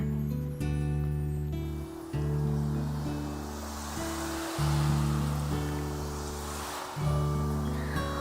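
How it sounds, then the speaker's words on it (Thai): Ocean waves wash onto a beach as a broad hissing surf rising and falling in slow swells, heard under sustained background music, with no talk. "ว้าว ทะเลล่ะ นี่มันทะเลจริงๆด้วย"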